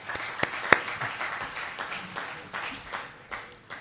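Audience clapping at a professional meeting, a moderately loud patter of scattered hands with a few sharp individual claps standing out near the start, fading slightly toward the end.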